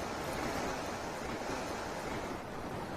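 Ocean surf washing steadily at the seaside, a continuous broad rushing roar with slight wind noise, even in level throughout and no voices.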